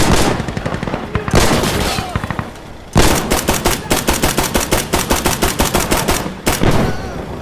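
Gunfire in the video game Insurgency Sandstorm, loud rapid automatic bursts with dense rhythmic shots and a few gaps, close and continuous, with voices speaking over it.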